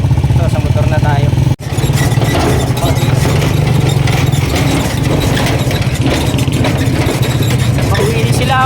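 A motorcycle engine runs steadily and close by with a deep, continuous low drone and a brief dropout near the start, on the way to Patungan Beach after a long bus ride; voices talk over the engine noise.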